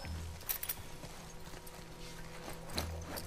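Horse hooves clip-clopping in The Last of Us Part II, a steady run of fairly faint hoofbeats with no talk over them.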